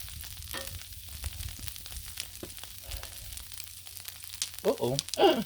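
Food searing on a Blackstone griddle during a Sunday brunch of pancakes and corned beef hash, a steady low sizzle throughout with a few louder scraping bursts near the end.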